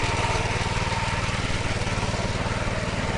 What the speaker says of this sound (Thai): ทำงานรถตีดินช้างน้อยครับ ใน สวนกล้วยหอมทองอ่าเนี่ยครับ